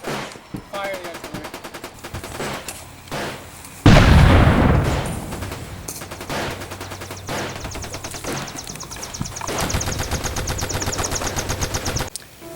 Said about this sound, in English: ordered an artillery strike on the Four Courts building